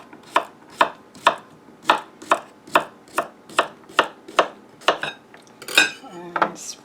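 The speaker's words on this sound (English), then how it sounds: "I'm going to take one of these nice little cucumbers, and I never really peel these, just cut off the ends. And I'm going to slice it nice and thin." A knife slices an unpeeled, end-trimmed cucumber thin on a cutting board, making about fourteen crisp, evenly spaced chops that pick up pace slightly toward the end, close and clear with no talking.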